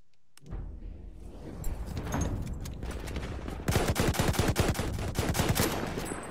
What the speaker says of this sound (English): this is that second automatic weapon I was talking about, this weapon right here